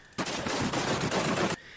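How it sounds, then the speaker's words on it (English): Sustained burst of machine gun fire in real combat in the Ukraine–Russia war, one loud continuous rattling volley lasting over a second before stopping abruptly. "just rounds down range, covering his guys to get out"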